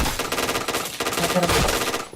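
Rapid automatic gunfire from the first-person shooter PUBG, loud and close, with dense bursts running almost continuously before cutting off at the end.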